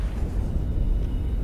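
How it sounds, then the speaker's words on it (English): A deep, sustained rumble of thunder in the undersea survival game Subnautica Below Zero rolls low and heavy without a sharp crack. "It's the thunder."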